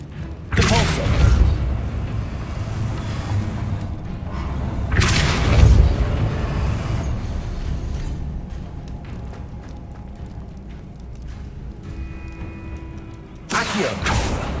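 Spell impacts in the game Hogwarts Legacy as Depulso is cast: several loud, separate booming thuds with mechanical rumbling between them, spaced a few seconds apart.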